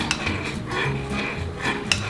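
Spoon stirring bouillon into about eight ounces of water in a pot, soft repeated scraping and clinks against the metal, close and continuous with light bubbling beneath.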